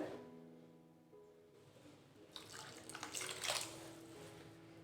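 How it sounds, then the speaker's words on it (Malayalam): Water splashes and gushes into a container, rising louder in the second half, with a low hum underneath and no talking. "ഞാൻ ഇതിനകത്തേക്ക് വെള്ളം ഒഴിച്ച് കൊടുക്കുവാണ്"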